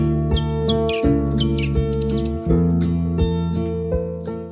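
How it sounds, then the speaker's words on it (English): Migratory birds sing in wild Siberia in spring, several chirps and tweets rising clearly over a steady low hum or drone, with no talking. "Migratory birds fill the sky, filling the air with their songs"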